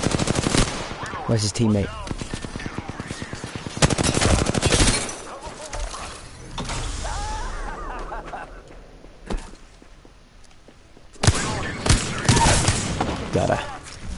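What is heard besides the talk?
gunfire in Apex Legends video game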